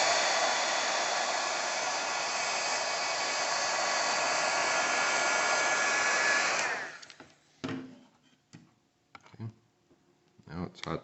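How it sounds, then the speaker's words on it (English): A heat gun or hot-air tool blows steadily and loudly on an iPhone part to loosen it for removal, then cuts off, followed by faint clicks and handling noises. "heat this other part up a little bit more"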